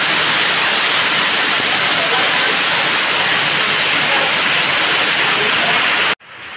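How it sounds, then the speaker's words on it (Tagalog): Heavy rain pours down in a dense, loud, steady hiss, cutting off abruptly near the end to a quieter background. "Ang tagal po ng ulan."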